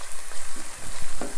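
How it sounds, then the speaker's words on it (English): Onion frying in a pan for a spicy green chicken curry gives a steady, close sizzle with soft crackles and occasional stirring scrapes, heard alone. "while the onion is frying"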